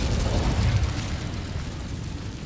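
An Incendio fire spell cast in Hogwarts Legacy bursts out as a loud, steady roaring whoosh of flame that starts strong and slowly fades over a couple of seconds.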